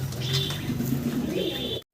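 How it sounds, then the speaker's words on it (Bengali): A pair of Mundian pigeons coo close by in a steady, overlapping murmur of soft throaty calls that lasts about two seconds before cutting to a brief silence. "ভাইয়ের কাছে আছে জোড়া মুন্ডিয়ান কবুতর"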